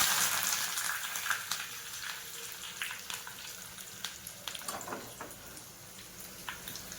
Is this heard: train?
no